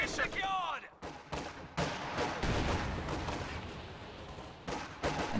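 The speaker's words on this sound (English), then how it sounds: "MG34 does suppress that rifle squad." MG34 machine gun firing in a video game battle, bursts of rattling gunfire mixed with heavier explosions and dense battle noise, loud and continuous, with brief gaps between volleys.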